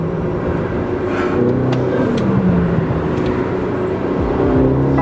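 A BMW F30 with a B48 turbo engine and MST Performance intake revs, a steady loud engine drone with rising and falling pitch sweeps and light turbo flutter, heard alone without speech.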